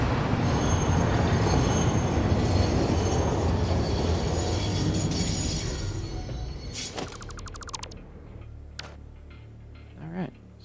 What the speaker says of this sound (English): Trains out here.